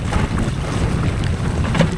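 Steady, loud wind rushing and buffeting across open sea aboard a handline sardine fishing boat, a continuous roar with no voices.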